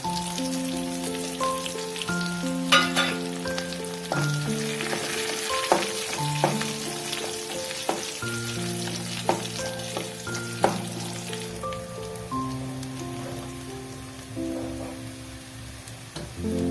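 Chopped shallots and sliced green chillies frying in a pan, a continuous crackling sizzle with scattered pops, close and steady, under a melodic background tune.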